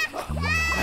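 Sauce splashing as a cartoon sound effect, a short wet splatter that is loud and close, with a voice over it.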